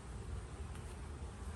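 Honeybees buzz thickly on a hive frame, a faint, continuous swarm drone with no pauses, close to the comb and without voices.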